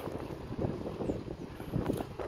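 Headwind rushes against a cyclist pedaling through an industrial district, a rough, low buffeting rumble of wind on the microphone that swells and dips unevenly with no speech.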